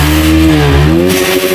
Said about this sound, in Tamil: பைக்கை ஸ்டார்ட் பண்ணி அதோட சவுண்ட் எப்படி இருக்குன்னு காட்டுற பாருங்க.